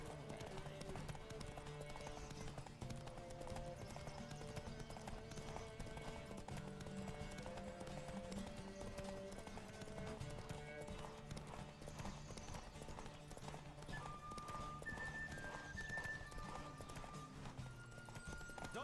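In a Witcher 3 horse race, a horse gallops hard with steady, rapid hoofbeats that run continuously under game music and background noise.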